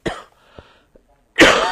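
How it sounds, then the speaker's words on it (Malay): A single harsh cough bursts out loudly near the end, after a quieter throat sound and brief small noises, from a parliament member speaking about a political issue. "Minta maaf, batuk masih ada lagi"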